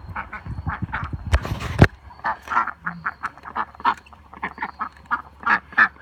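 Ducks quacking in a backyard pen at night, with a burst of loud overlapping calls early on, then a steady run of short separate quacks close by. A voice speaks briefly.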